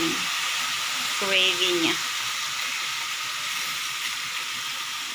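Tempeh fries in a pan with gravy and maple syrup over low heat, giving a steady, even sizzle and hiss that runs throughout while a voice speaks briefly near the start.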